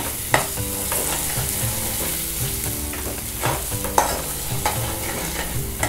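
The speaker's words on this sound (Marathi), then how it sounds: "तर एकदा हे ढवळून घेते मी" Coconut-based baida masala being stirred as it fries in hot oil, a steady close sizzle broken by a few sharp scraping strokes of the spoon against the pan.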